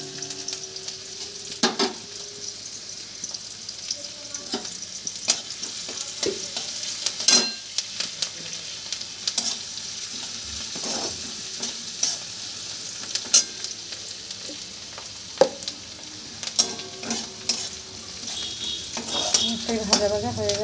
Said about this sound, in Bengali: নাড়তে হবে ভালো করে, যাতে একটু লাল লাল হয়ে আসুক পেঁয়াজগুলো